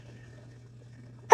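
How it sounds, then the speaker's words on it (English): A single short sneeze bursts out at the very end, loud and close, after a stretch of quiet room hum. "Oh, I gotta sneeze."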